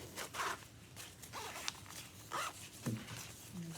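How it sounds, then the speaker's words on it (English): The metal zip on a handmade fabric makeup bag is pulled open in several short, quiet rasping strokes, close by, with faint rustling of the fabric between pulls. "I can turn it out and unzip"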